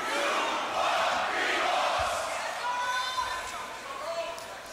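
Crowd at a beatbox battle shouting together in a loud, continuous roar of voices, with an emcee's call sounding over the massed yelling.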